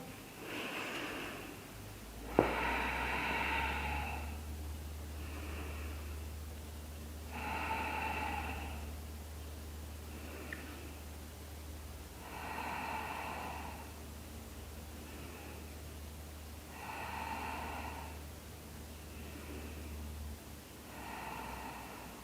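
Slow, deep yoga breathing during a hatha session, about five full breaths spaced several seconds apart, each a soft airy rush. A steady low hum runs underneath.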